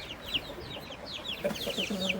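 A large, heavy Indonesian rooster in a poultry coop, giving short, repeated clucking calls close to the microphone over a busy background of other fowl.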